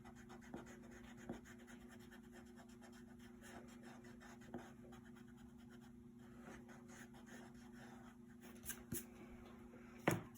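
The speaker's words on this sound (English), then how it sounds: "I'm going to erase that." Eraser rubbing over colored pencil on paper, faint close scratchy strokes under a steady low hum, with a few small taps and a louder scrape near the end.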